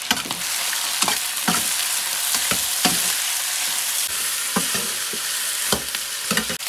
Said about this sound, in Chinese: 鸡肉炒好了，加入葱姜蒜，